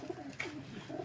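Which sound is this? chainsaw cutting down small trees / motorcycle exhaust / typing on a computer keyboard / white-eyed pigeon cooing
white-eyed pigeon cooing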